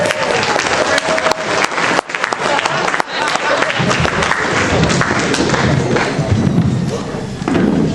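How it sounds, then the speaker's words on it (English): Loud, close audience applause greets a magician taking the stage at a Young Farmers evening event, dense clapping with occasional thumps, dipping briefly before swelling again. "can I have a big round of applause for the main act this evening?"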